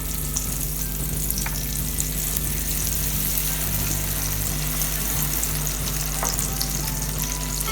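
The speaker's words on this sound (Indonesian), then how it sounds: "Lalu kita tumis dengan" Tangkil skin stir-fries in oil in a pan, giving a loud continuous sizzle and crackle up close with faint scrapes of stirring.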